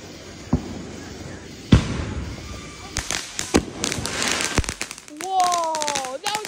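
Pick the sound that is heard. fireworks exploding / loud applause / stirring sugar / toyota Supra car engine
fireworks exploding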